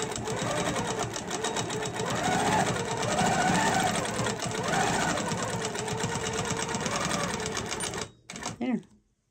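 A sewing machine stitches a feather quilting pattern with a Julia Quiltoff feather template ruler, running steadily and loudly for about eight seconds before stopping, with someone speaking over the motor.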